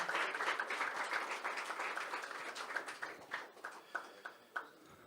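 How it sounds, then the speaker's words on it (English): Applause from a press conference audience for an MFN 8 fight event, a strong burst of clapping that thins out over several seconds into scattered, separate claps, heard somewhat distant. "Big round of applause, ladies and gentlemen."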